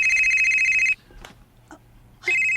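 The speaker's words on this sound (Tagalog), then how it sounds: "Bimbo, si Bimbo ninawag" A mobile phone rings with a steady electronic tone that stops briefly, leaving a few faint clicks and noises, then resumes ringing; fairly loud and close.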